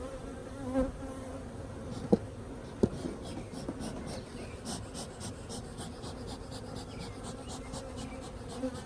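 Honeybees swarm around an open nucleus hive, giving a dense, continuous close buzz. A couple of sharp knocks and soft handling noises cut through the drone.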